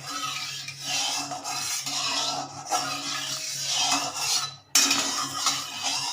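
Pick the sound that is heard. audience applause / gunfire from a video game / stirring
stirring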